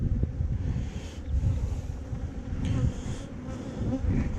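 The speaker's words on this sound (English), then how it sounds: "that's why I see all these bees around me" Bees swarm and buzz continuously around an opened hive rescued from a water meter, a dense close-up drone with shifting intensity and wind buffeting the microphone.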